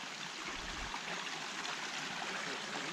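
Small stream flowing out of a waterfall on a trail in Arkansas, a steady, close, even rush and trickle of water that continues without a break.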